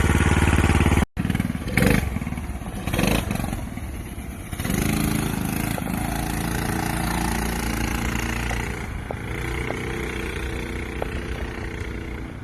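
A custom mini chopper motorcycle with a torque converter clutch setup runs steadily nearby. Its small engine gives a loud, continuous, throbbing idle with a couple of brief revs early on, and no talking.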